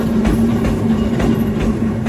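A Kurobe Gorge Railway mountain train rolls into a passing station, giving a steady loud rumble with faint, regularly spaced wheel clicks and a sustained hum, heard close from on board.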